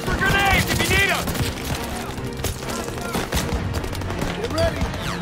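Dense gunfire from Call of Duty WWII fills a chaotic battle scene, with rapid overlapping shots and bursts. Soldiers shout over the steady barrage.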